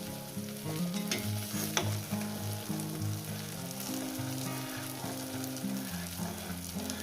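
Egg fries with ridge gourd in a pan, giving a bright, continuous sizzle up close, with soft instrumental music playing underneath.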